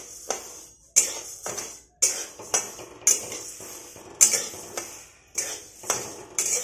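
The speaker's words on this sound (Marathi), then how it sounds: "तांदूळ भाजलेला आहे काढून घ्यायचं आणि मुगाची डाळ एकत्र भाजून घ्यायची।" Rice and moong dal dry-roasting in a pan, sounding as a run of regular, fairly loud scraping clatters from a spoon stirring against the metal, with no sizzle between strokes.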